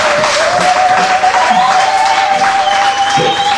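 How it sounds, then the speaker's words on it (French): A church congregation applauding for the Lord, a dense, loud, continuous wash of clapping from a crowd with a sustained tone running over it. "Applaudissez pour le Seigneur."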